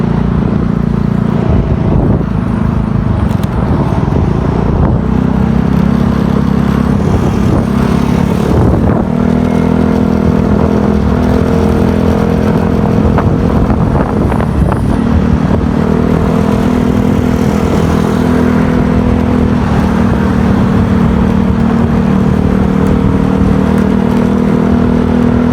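A Yamaha Mio Gear 125 scooter engine hums loudly and continuously up close, with rushing wind and occasional rattles on a ride along Marilaque highway near Antipolo.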